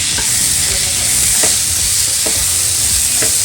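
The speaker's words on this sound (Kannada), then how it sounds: "ಸೊ ಇದು ಫ್ರೈ ಆಗ್ತಾ ಇದೆ" Onion and tomato fry loudly in a pan for a hyacinth bean masala curry, making a dense, steady sizzle with faint periodic stirring scrapes.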